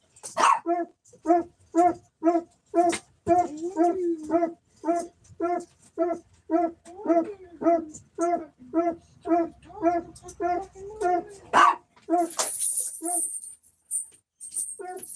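Dog barking in a long regular series of sharp barks, about two per second, close and loud, mixed with whimpers and yips, ending with a brief high noise.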